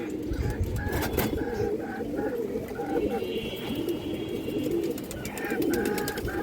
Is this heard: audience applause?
no